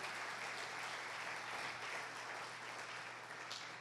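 A church congregation claps loudly during a Spanish-language family worship service, a continuous dense wash of applause lasting several seconds with a faint low hum beneath it.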